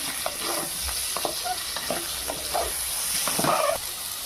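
A spoon scrapes and stirs through eggplant curry with lentil fritters sizzling in a frying pan, giving soft irregular stirring strokes over a constant close hiss of frying.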